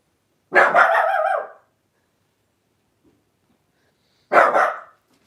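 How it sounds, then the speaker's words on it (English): A dog gives two loud, close single barks, spaced about four seconds apart, with near silence in between on a cold evening. "I don't know what she's barking at"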